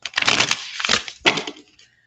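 Tarot cards shuffled by hand in three rapid papery bursts of riffling and slapping, close and fairly loud, with short pauses between and no talking.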